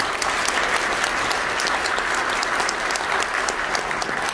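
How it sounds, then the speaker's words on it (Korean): Guests at an 80th birthday banquet in a hotel hall applaud warmly with thick, continuous clapping that stays steady and fairly loud throughout, with no talk over it. "우리 하객 여러분들 큰 박수 한번 보내주십시오"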